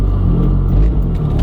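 A Mazdaspeed 3 engine revs through a shift from first to second gear. Deep, loud rumbling engine drone sits close and steady, with a slight dip mid-shift and no talk.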